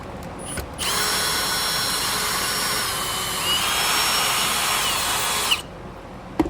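A power drill whirs steadily for about five seconds while removing screws from a Hoover Air vacuum, its high motor whine starting and stopping abruptly, with a few clicks around it and no talk.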